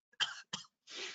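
Three close, dry coughs from one person, two sharp bursts followed by a longer, rougher hacking cough, heard alone and fairly near with no talking.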